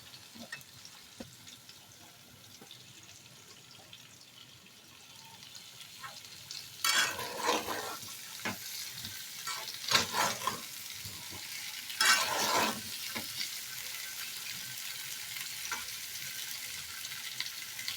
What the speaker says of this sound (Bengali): একটু হলুদ দিয়ে দিলাম, দিয়ে আমি এটা একটু ব্রাউন করে ভেজে নেব।